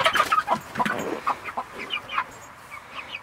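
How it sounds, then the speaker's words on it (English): Icelandic chickens and a silkie hen with young chicks cluck nearby in a pasture chicken tractor, a burst of busy clucking and chirps that tapers into softer, scattered calls. "Let's go check on the Icelandic chickens and the barn rocks and see how Blackie's doing."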